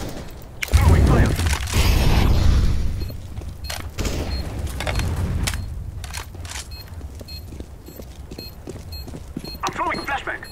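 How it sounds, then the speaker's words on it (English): An incendiary grenade thrown in the Counter-Strike video game: a loud boom that swells into a roaring burst of fire, then a crackling spread of flames with scattered sharp pops and clicks. "Throwing fire."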